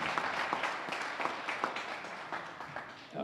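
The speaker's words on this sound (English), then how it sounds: "a collective round of applause for each of our nominees this year" An audience at a neighborhood awards ceremony gives the nominees a collective round of applause, steady moderate clapping from a room of people that fades slightly near the end.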